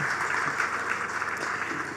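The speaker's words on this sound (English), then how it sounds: "One more time, ladies, a round of applause." An audience at a programme launch ceremony in a freedom park gives a short round of applause, a soft, distant wash of clapping lasting a couple of seconds.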